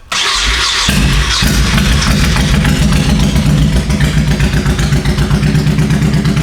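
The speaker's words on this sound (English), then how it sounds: "We are going to fire this up so you guys can see it run right away." A Honda Shadow Sabre motorcycle engine, choke on, cranks and fires almost at once, then settles into a loud, close, steady rumbling idle.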